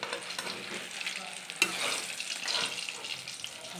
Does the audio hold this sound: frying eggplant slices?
yes